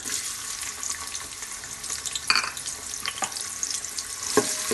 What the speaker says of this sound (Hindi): घी हमारा गर्म हो रहा है। तो अब हम इसमें डाल देंगे प्याज।